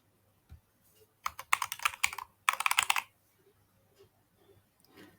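Someone types a password on a computer keyboard while setting up MySQL. Two quick bursts of close, crisp key clicks are separated by a short pause, with a few faint isolated taps afterward.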